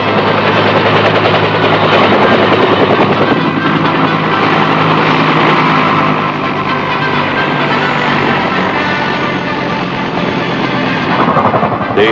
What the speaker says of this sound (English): helicopters touch down on landing pads and bring in the precious cargo.